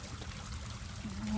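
Water from a fountain trickles and splashes softly in a short, quiet stretch, with a faint tone near the end.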